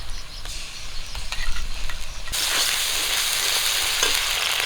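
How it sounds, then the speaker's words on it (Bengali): Chopped onion and green chili frying in oil previously used for frying fish, a continuous crackling sizzle that grows louder and denser halfway through, with no voices. "আবার ওই তেলেই রান্না করতেছি পেঁয়াজ আর কাঁচা লঙ্কা ভেজে নিয়েছি"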